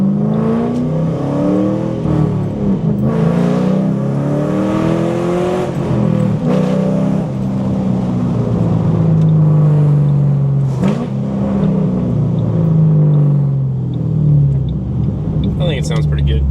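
A 2005 Ford Mustang GT 3V V8 driving on the road, its engine droning and rising and falling in pitch through the gears, loud and close, with a voice talking over it.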